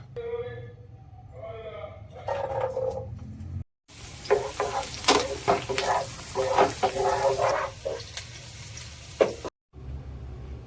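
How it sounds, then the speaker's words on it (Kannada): Garlic fries in a generous amount of oil in a pan for cheesy garlic bread, a steady crackling sizzle with stirring clinks and scrapes, while a voice talks over it. "ಈಗ ಫ್ರೈ ಮಾಡೋದಕ್ಕೆ ಬೆಳ್ಳುಳ್ಳಿ ಹಾಕೊಳ್ಳೋಣ"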